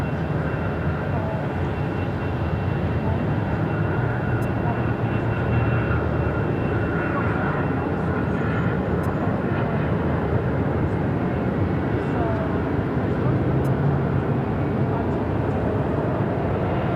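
Jet airliner on its takeoff roll from runway 7 left at Phoenix Sky Harbor, a steady, broad engine roar holding loud and continuous throughout, with radio chatter faintly under it.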